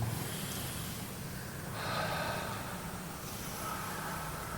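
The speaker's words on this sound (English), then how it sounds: "Let's try breathing, just." A choir group breathes in deeply through the nose during a practice session, giving two or three long, soft, airy inhalations over a faint room noise.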